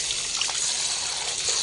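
Running tap water splashes steadily as collard greens are held under the stream and rinsed, a continuous close trickle and spatter with no talking.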